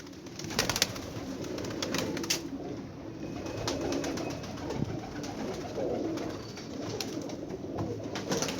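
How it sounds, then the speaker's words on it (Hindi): About sixty pigeons on a rooftop coo steadily in a soft, low, continuous murmur, with a few louder flutters and shuffles near the start. "अंदाजन 60 कबूतर ने"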